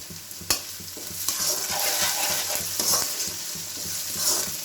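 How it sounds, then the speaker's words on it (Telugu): Onions and curry leaves fry in a pan for egg pulusu, giving a continuous hissing sizzle with occasional stirring scrapes and a sharp knock near the start. "ఉల్లిపాయలు కొంచెం ఫ్రై అవుతున్నప్పుడు కొంచెం కరివేపాకు వేసుకోవాలి ఫ్రెండ్స్"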